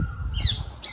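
A bird lets out a brief harsh squawk from the mango trees above, sharp and close, over a low background rumble.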